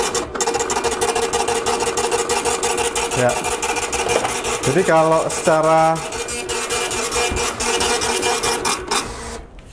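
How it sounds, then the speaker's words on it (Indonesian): A dot matrix printer rasps steadily as its print head hammers across the page, a dense buzzing chatter close by with brief carriage movements, under occasional talk. "langsung aja kita tes dot matrix printernya"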